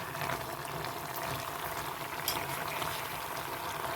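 Drumstick curry simmering in a pot, giving a steady, close bubbling hiss that holds level and continuous throughout with no voices.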